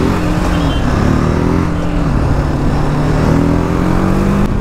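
A TVS Apache RTR 310 motorcycle is ridden at speed, its engine a steady loud drone with rising and falling pitch as it revs through the gears, alone with no talk.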